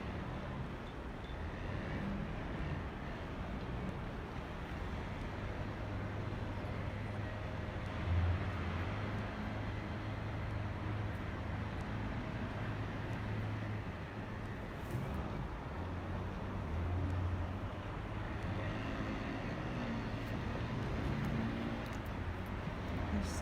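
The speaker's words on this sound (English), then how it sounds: "They'll use the engine, the sound of the engine, to scare the dolphins in a certain direction." An outboard engine on a small skiff drones steadily and continuously at a distance while Risso's dolphins are herded at sea, forming a constant low rumble with wind and water noise and no clear voices.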